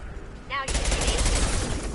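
A short electronic whine rises and then bursts into sustained crackling weapon fire in Mass Effect combat, loud and dense for the rest of the moment.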